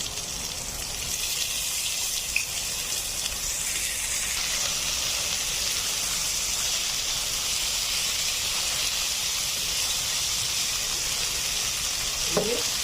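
Fish sizzles steadily in virgin olive oil with chopped chillies, ginger and garlic, giving a continuous bright frying hiss. A couple of faint clinks rise out of it near the end.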